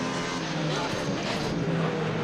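BMW E36 fitted with a Judd V8 in the racing game Assetto Corsa on a hill climb, its engine droning steadily at high revs while someone talks over it.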